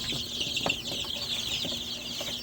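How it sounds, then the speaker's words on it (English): Guinea fowl and chickens cluck softly in a homestead brooder, with scattered short calls over a steady high chirping hiss from the flock. "There's a guinea right there."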